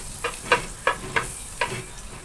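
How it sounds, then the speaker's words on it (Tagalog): Butter sautéing in a pan for pancit canton, a soft continuous sizzle with about five sharp scraping stirs or taps spaced through it, close and moderately loud with no talking. "Ngayon, magigisa na tayo. Ilagay lang akong kaunting butter para may lasa."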